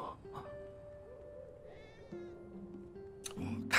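Cats meowing in the video game Final Fantasy 7 Remake, a few short meows over quiet game music with tonal background notes, ending with a louder burst.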